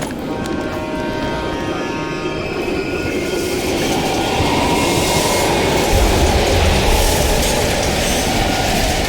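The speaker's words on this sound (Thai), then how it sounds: "รถไฟเริ่มชะลอ" Train slowing on the rails in the Call of Duty: Cold War game in East Berlin, a steady rumbling roll with faint wheel squeal and clatter that swells a little toward the end, no voices.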